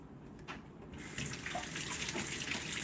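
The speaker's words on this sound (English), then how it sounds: "So I just rinse off my denture and put them in." Tap water runs steadily into a sink while dentures are rinsed, a continuous close hiss and splash that grows slightly fuller partway through.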